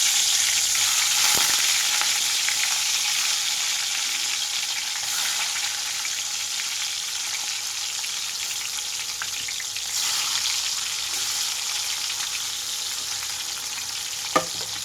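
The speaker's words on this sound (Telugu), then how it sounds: "ఆయిల్ అంతా హీట్ అయిన తర్వాత నేను కాకరకాయ ముక్కలన్నీ ఇందులో పెట్టుకున్నాను" Bitter gourd pieces fry in hot oil in a pan, giving a long, even, close sizzle with soft bubbling and a few sharp clicks, and no voices.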